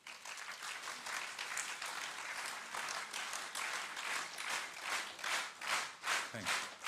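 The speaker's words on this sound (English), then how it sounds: "What I want you to do is to clap synchronously." An audience in a lecture hall claps together, starting as scattered applause that gradually falls into a synchronized rhythm of loud, regular beats toward the end.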